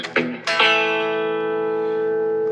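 Electric guitar played through distortion: two quick strummed chord attacks, then a loud sustained distorted chord that rings out steadily and close, alone with no voice.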